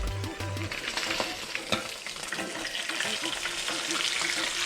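A snapper fillet frying in a pan and getting flipped, with constant loud sizzling, a couple of low knocks and clatters early on, and faint voices underneath.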